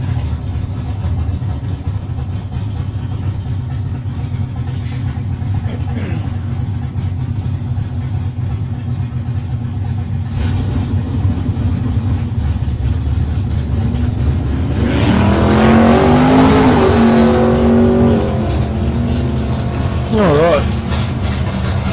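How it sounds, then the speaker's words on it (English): A Ford AU XR6 and a green VC Commodore with a 364 cubic inch V8 rumble at the drag strip, a low idling drone that swells into a loud rising rev before settling, with a voice talking over it. "Andrew Gay in lane 2 with his green VC Commodore with a C364 cubic inch V8"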